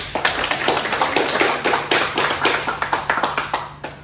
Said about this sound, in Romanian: Și meritați multe aplauze!